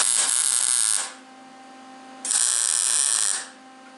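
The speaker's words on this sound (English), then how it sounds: "and then I'll weld it." An electric welder buzzes in two steady bursts while joining a metal piece on a bevel siding jig, each a loud, close, sizzling hum lasting about a second, separated by a short quiet gap.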